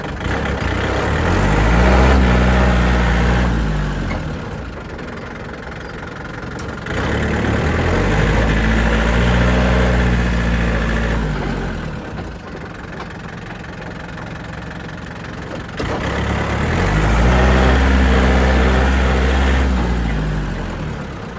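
A 2013 Yanmar 49-horsepower tractor's diesel engine runs steadily up close, its loud, continuous idle swelling and easing in three slow waves, with no voices.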